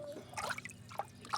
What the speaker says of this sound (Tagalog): So tapos lalagyan natin to ng tubig.